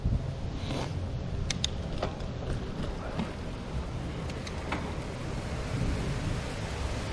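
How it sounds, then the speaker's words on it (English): Steady wind buffeting while cycling outdoors in Zagreb as a storm approaches, a constant low rumble throughout with a few faint clicks and rattles over it. "I'm sorry if there's too much wind."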